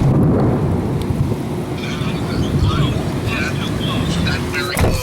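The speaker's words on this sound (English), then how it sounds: "I want to hear that thunderclap. I want to hear how close that was." A thunderclap rolls through a heavy storm with steady rain, a loud low rumble swelling and fading over several seconds, with a sharp crack near the end.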